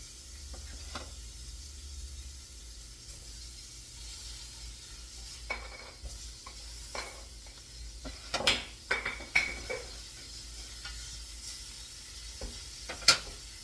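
A cheese-filled hamburger patty fries in a pan with a soft, steady sizzle, broken by a few light clinks and scrapes of a utensil near the end.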